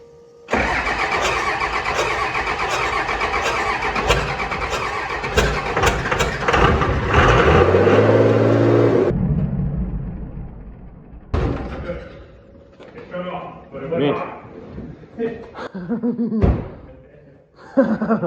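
A 24-valve Cummins diesel with a swapped P-pump catches on first fire almost instantly and roars loud and close at high revs for about eight seconds, then cuts off, leaving people talking and laughing.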